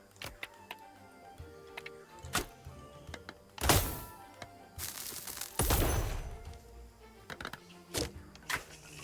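Turrets firing in the game Flick Shot Rogues: scattered sharp ticks and thunks punctuated by a few heavier blasts and bursts of gunfire, uneven and intermittent.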